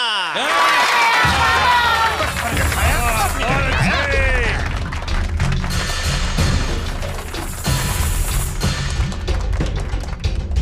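A crowd of adults and children claps and cheers loudly and continuously before a martial arts champion breaks a slab of ice on stage, with whistles and shouts over dense applause.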